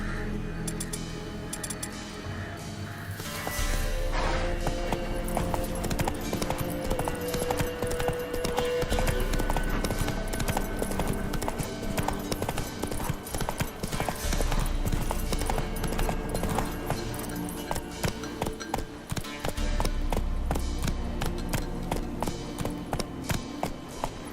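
Roach the horse in The Witcher 3 trots with a steady, rhythmic clip-clop of hooves that continues for the whole stretch over a dense, busy game soundscape.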